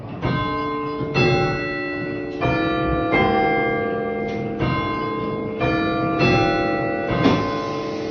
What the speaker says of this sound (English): The weight came down and powered the chimes